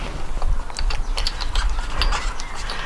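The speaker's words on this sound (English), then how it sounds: "Start to undo the bolt, and we can drop the axle back down again." Ratchet clicking while undoing a bolt on the rear axle of a Volvo 480, rapid light mechanical ticks over a low rumble, close and steady for a few seconds with no talking.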